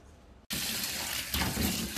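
A kitchen tap suddenly turned on, sending a steady, loud stream of water over dried luo han guo fruit in a sink, with a slight change in splashing partway through.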